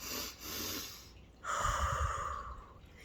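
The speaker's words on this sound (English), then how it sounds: "a simple two breaths in through your nose and one breath out" Close breathing through the nose: two quick inhalations followed by one longer, audible exhale, with no talking.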